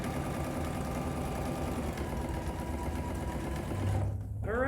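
A sewing machine stitches steadily around the edge of a book pillow, giving a continuous close, even whirring hum with no pauses or talk.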